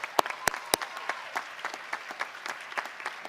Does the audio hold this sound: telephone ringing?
no